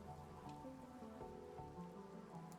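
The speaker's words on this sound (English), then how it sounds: "The hills are alive with the sounds of the rain." Steady rain patters in a video game, a soft even wash of drops on surfaces with a low rumbling bed underneath, continuous and faint with no talking.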